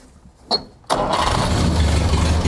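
A brief click, then a 1960 Mercedes-Benz engine cranks and catches after decades abandoned, settling into a loud, steady idle close by.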